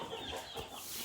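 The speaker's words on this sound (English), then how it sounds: "I don't know if you can hear that, but chickens are going crazy out there." Fifty Cornish cross meat chickens cluck faintly out in their pen, a soft, distant mix of short calls with no voices in the foreground.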